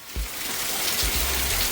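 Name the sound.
heavy morning rain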